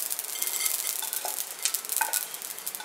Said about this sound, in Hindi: अभी ये तड़तड़ाने लगी है